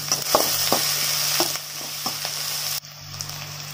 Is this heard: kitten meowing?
no